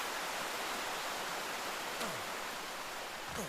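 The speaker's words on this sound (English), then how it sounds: "I'm trying to get away from this waterfall because it's really annoying and loud." A loud waterfall in ARK, a steady roaring hiss of falling water that fills the whole scene at constant level, with a couple of faint sweeping game tones near the end.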